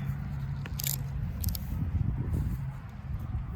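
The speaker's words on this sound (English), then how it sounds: "I'm just gonna put some slits in the bag, just some little holes." A small knife pokes slits into a plastic bag of syrup for a bee feeder, giving soft crinkling, crunching and scraping sounds up close, with a few sharp crisp ticks, no talking.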